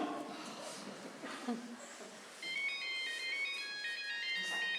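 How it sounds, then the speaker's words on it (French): During a stage play, a mobile phone ringtone plays a steady electronic melody in the second half, following a stretch of indistinct background chatter. "C'est le portable de Martine, je ne sais pas où il est"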